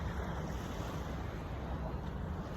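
Sea waves washing against a seawall, a steady broad roar of surf with wind noise on the microphone and no talking.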